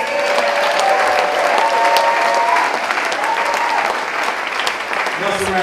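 Loud, sustained applause from a jazz concert crowd at Quail Lodge, with cheering and whoops mixed in, greeting a musical director; the clapping stays dense and even throughout.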